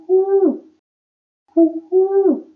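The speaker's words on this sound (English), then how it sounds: "pigeon." A pigeon cooing close up, with two low, rounded coos separated by a pause and a short extra note just before the second one.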